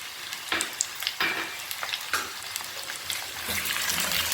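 Tomatoes dropped into a pan of sizzling garlic ginger paste for potato curry, loud crackling fry with a few sharp splattering bursts and stirring.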